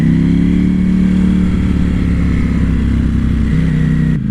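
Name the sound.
Ducati Panigale motorcycle engine accelerating in sport mode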